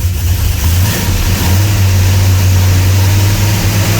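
A Plymouth Roadrunner engine revs loud and close, a steady throaty roar with a low rumble held at raised RPM, with no talk over it.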